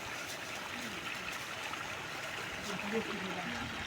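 Water flows steadily in a rice paddy field during transplanting, a soft continuous trickle and gurgle at low level with faint voices in the background.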